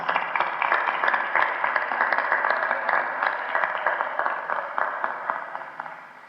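Applause rises from an audience welcoming a speaker at an event, a dense, steady crowd of clapping hands that holds for several seconds before tapering slightly at the end.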